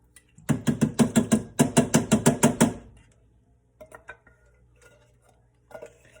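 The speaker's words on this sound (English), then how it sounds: "And then give that a good stir." A spoon stirs beef stew in a pot, about a dozen quick metallic scrapes and clinks in a regular rhythm for three seconds, then a few softer scattered knocks.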